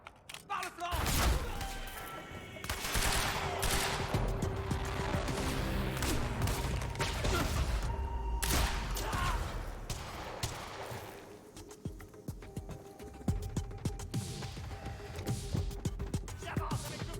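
Pump-action shotgun blasts and heavy gunfire in the video game Quantum Break, dense repeated shots and impacts throughout, with a voice talking over the action.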